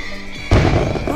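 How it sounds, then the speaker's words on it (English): Fireworks being set off, a sudden loud burst midway after a quieter lead-in, followed by a crackling, sizzling tail that lingers to the end. "My God, I love fireworks."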